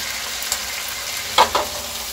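Chilli paneer mixture with green coriander, garam masala and salt stirred in a hot frying pan, a steady sizzle with a few sharp scraping clicks of the spoon near the end, no voices.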